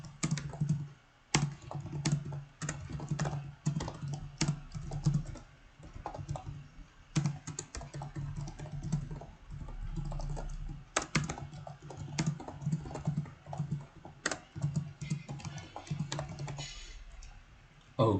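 Steady typing of Python code on a computer keyboard, close and fairly quiet, with dense uneven keystroke clicks and brief pauses running the full length, no voices.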